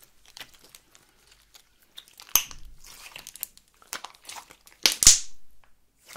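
Crisp crackling and crunching bursts as crunchy slime is pressed and squeezed, with a few louder crackles near the end and quiet gaps between.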